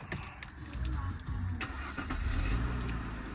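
A 2006 Mercedes CLK 280 Elegance coupe with a 3.0 V6 cranks and fires up, the starter whirr giving way to a smooth, steady idle rumble heard close by, with faint key rattle at the start.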